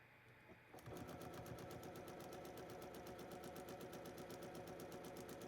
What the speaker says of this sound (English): now I'm stitching the top 2 blocks together.